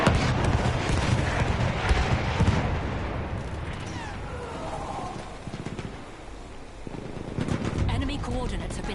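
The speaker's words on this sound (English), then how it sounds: "Enemy coordinates have been sent to our artillery. And an artillery barrage been activated." Artillery barrage in an online shooter video game: heavy gunfire and repeated booming impacts crowd together in loud rolling bursts, easing briefly in the middle before picking up again, with voices talking over the chaos.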